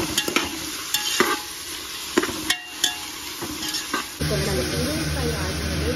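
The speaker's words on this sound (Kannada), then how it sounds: "ಈರುಳ್ಳಿ ಎಷ್ಟು ಚೆನ್ನಾಗಿ ಫ್ರೈ ಆಗುತ್ತೋ ಅದ್ರ ಹಸಿ ಸ್ಮೆಲ್ ಹೋಗೋ ತನಕ ಫ್ರೈ ಆಗಬೇಕು" Chopped onions sizzle and fry steadily in a home kitchen pan, with sharp clinks and scrapes of a stirring utensil against the pan, and the frying noise grows louder near the end.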